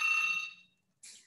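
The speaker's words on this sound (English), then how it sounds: "the phone is ringing" A telephone rings in a lecture room, one loud electronic ring burst followed by a short pause and the start of a second ring, with no talking over it.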